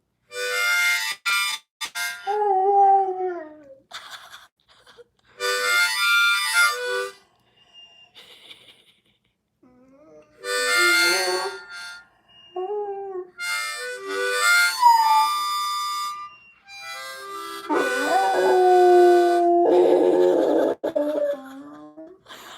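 Dog howling along to a harmonica, long wavering pitched howls alternating with bursts of bright reedy harmonica notes, repeating in several rounds with short silences between and a loud final stretch where both overlap.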